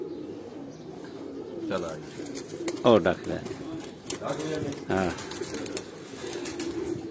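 Pigeons coo in a loft in short, throaty bursts while someone talks close by over them.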